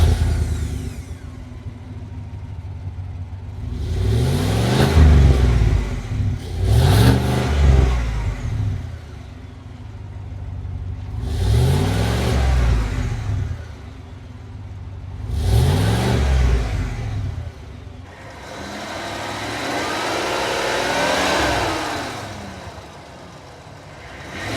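A GMC Yukon Denali's 6.2-liter V8 revs up repeatedly, four rising-and-falling surges followed by a longer held rev, loud and close with a steady idle between bursts.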